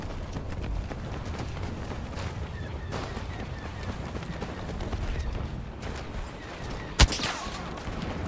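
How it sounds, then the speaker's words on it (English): Blaster gunfire crackles in rapid bursts during a Star Wars Battlefront firefight, a steady stream of shots under battle noise with one sharp, loud crack near the end. "They're shooting at me now."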